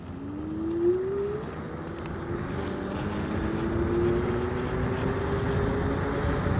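An AUSOM L1 electric scooter accelerates in race mode, its motor whine climbing steadily in pitch over a constant rush of wind and road noise, close and fairly loud, with no talking.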